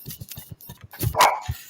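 A dog barks repeatedly at close range, a rapid series of short sharp barks ending in a louder, higher yelp, with no voices.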